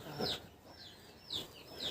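Chickens drinking clean water give soft, intermittent clucks and short calls, a few close but quiet bursts spaced across the moment.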